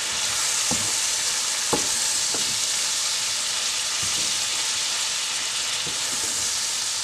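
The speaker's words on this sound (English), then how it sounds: "some cayenne pepper, give that a good stir" Crab and shrimp stuffing seasoned with cayenne pepper being stirred in a hot pan on the stove: a loud, continuous sizzle broken by a few sharp scrapes and taps of a utensil, close and without talk.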